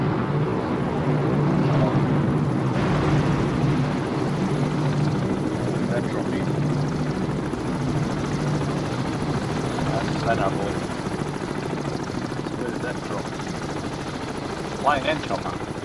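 A helicopter in the submarine game Cold Waters gives a steady, loud rotor drone and hum that fills the whole stretch without a break, with a voice faintly present beneath it.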